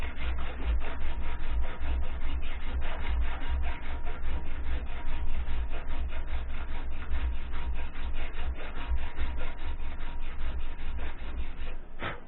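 A three-corner file is worked over metal on a gunsmith's bench to flatten and smooth it, making a rapid, continuous rasping of close back-and-forth strokes.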